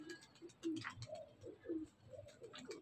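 Champion pigeons cooing close by, a run of soft, low, repeated throaty coos in a loose rhythm with no voices.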